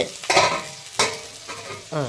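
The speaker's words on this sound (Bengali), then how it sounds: "জিরে আর তেজপাতা ফোড়ন দিয়ে সবজিটা ভাজা বসিয়েছি" Vegetables sizzle loudly in hot oil tempered with cumin and bay leaf, with a spatula stirring and scraping the pan in a few quick bursts.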